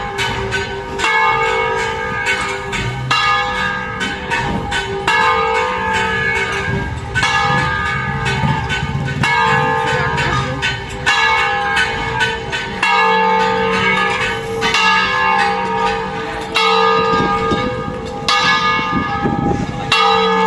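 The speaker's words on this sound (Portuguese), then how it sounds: "tá tocando um sino porque vai ter um funeral agora daqui a meia hora na igreja" Church bell ringing steadily and loudly for the whole stretch before a funeral at a church in Ouro Preto, its strokes overlapping in a continuous resonant peal with no talking.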